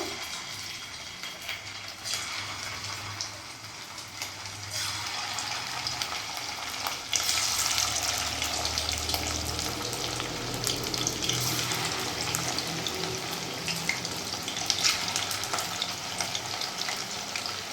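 Chicken pieces laid one by one into hot oil for shallow frying, for butter garlic chicken; a continuous close sizzle that swells and crackles louder partway through, with occasional scraping and handling sounds and no voices.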